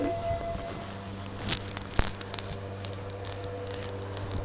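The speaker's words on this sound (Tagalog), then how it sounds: "Sobrang lakas ng ulan." Steady rush of heavy rain with scattered louder splats and patters over a low constant hum.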